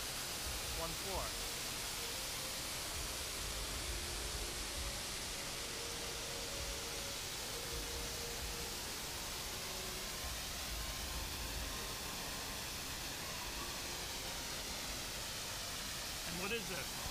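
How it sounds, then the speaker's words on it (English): An indoor waterfall dropping one floor inside a food market in Thailand gives off a steady, even wash of rushing water, constant throughout with no breaks and faint background noise mixed in. "They've got this waterfall here that goes down one floor."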